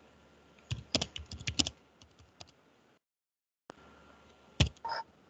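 Fingers tap on a computer keyboard in quick, uneven bursts of keystrokes, close and moderately loud, separated by a short silent gap and ending with a few more presses.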